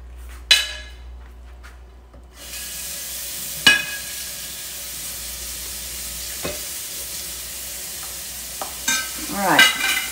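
Butter and oil heating in a frying pan for Thai green curry chicken give off a steady, close sizzle that swells after a quiet start, with a few sharp clinks and stirring scrapes.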